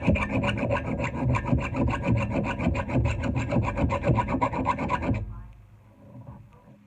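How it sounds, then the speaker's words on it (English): A round file takes the burr off a freshly sharpened edge, making rapid, even rasping strokes up close for about five seconds before the filing stops. "I'm just taking a little bit of burr off that"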